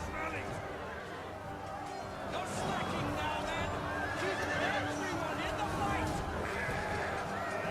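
Horses neighing and whinnying in a battle video game, cavalry among burning units, several shrill calls over galloping hooves and battle noise, with someone talking throughout.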